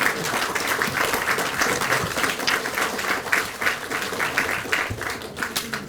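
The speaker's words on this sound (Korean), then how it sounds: "우리 당대표님께 박수 한번 크게 쳐드리면 어떻습니까?" Applause from an audience for a Korean opposition party leader at a Liberty Korea Party gathering, a steady dense clapping that fills the room and carries on through the whole stretch without speech.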